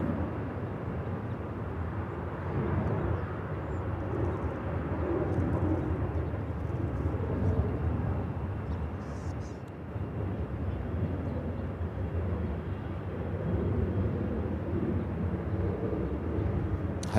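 A steady, broad roar from an airliner landing on runway 24 right at Los Angeles LAX, heard at a distance, holding a sustained rumbling level throughout with no talk.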